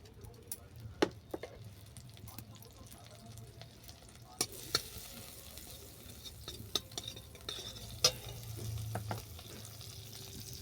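A little butter heats in a wok, giving a faint, quiet sizzle. Scattered sharp pops and light clicks rise above a low background hum.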